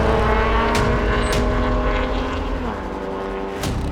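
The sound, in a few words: Porsche 996 race car engine revving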